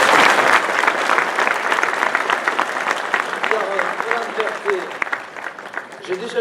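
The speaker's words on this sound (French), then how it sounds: "je vous propose de l'applaudir pour ce beau résultat" An audience at a town New Year's medal ceremony in Comines applauds Florence Berthet, clapping loudly at first and then thinning, with some voices speaking near the end.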